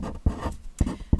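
Pencil writing a list of numbers on paper, a few short scratchy strokes with brief pauses between them, close and moderately quiet.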